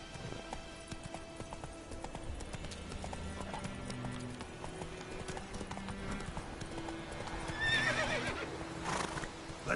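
Hooves of a horse galloping in The Witcher 3 game, a steady rhythmic clip-clop running throughout with a whinny near the end, joined by game music and ambient sound.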